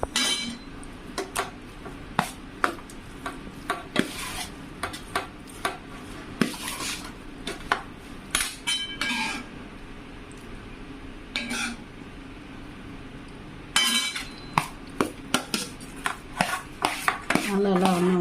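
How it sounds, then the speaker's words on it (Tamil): Puliyodharai tamarind rice is mixed by hand in a metal vessel, with repeated close scrapes and clinks of a spoon against the pot in an uneven rhythm and a short quieter pause midway. "நம்ம வந்து இந்த புளியோதரையை வந்து நம்ம இதோடு சேர்த்து கலந்துக்கலாங்க"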